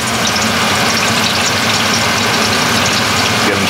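Loud, steady roar of a blower running beside a deep fryer where burgers are frying in grease, a constant close broadband rush with no voices.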